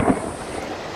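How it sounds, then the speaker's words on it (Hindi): A thunder crack sound effect in a horror story, a sharp close rumbling boom that hits at the start and then trails off into a steady stormy wash. "उसी समय पास ही कहीं बिजली कड़की।"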